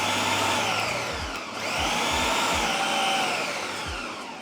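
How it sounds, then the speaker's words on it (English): A kitchen blender chops cold butter into flour with a steady, loud motor whine that dips briefly and then recovers, running continuously without speech. "so now we're going to blend this"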